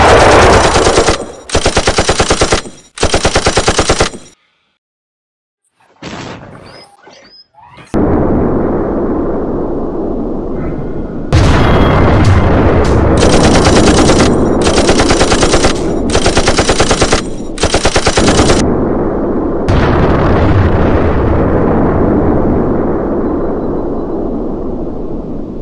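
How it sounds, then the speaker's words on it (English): Video game combat with rapid machine-gun bursts and heavy gunfire, a brief lull, then sustained loud shooting and explosions filling the scene. "Okay, they're shooting!"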